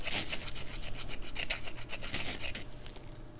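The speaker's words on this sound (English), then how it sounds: "I'm just gonna take my file and my piece, and I'm just gonna run that over quick" Metal file rasped quickly over a burr on a hacksawed steel bottle opener, a rapid series of close, bright scraping strokes for about two and a half seconds before fading into quiet.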